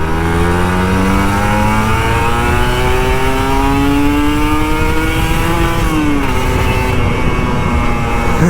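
A Kawasaki Ninja RR 150 two-stroke motorcycle engine revs loud and close, its pitch climbing steadily as the throttle is held open, then dropping back briefly before rising again.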